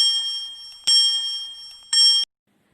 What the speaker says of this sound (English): This is how the bell rings.